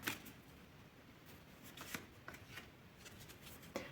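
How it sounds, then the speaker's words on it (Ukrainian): Soft, quiet riffling and flicking of tarot cards being drawn and shuffled, with a few sharper snaps scattered through. "Тому я зараз візьму ще карти до четвірки монет."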